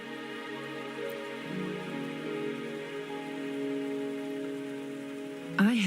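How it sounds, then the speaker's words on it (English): Rain falls in a scene from the video game Wuthering Waves, a soft steady patter under sustained tonal background music, ending with a brief brighter sound. "Don't worry, the rain won't last much longer."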